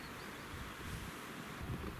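Strong wind gusting over the Shchugor river, a steady broad roar with buffeting low rumble close to the microphone, no voices.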